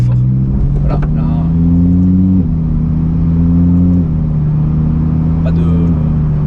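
A car engine fitted with an exhaust valve module controller runs loud and close, its low steady drone stepping up in pitch over several gear changes, while a person talks over it.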